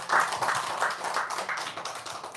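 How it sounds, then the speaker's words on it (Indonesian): A small group claps hands in a quick, slightly uneven rhythm, fairly close and moderately quiet, with no talking over it. "Tepuk tangan dulu dong."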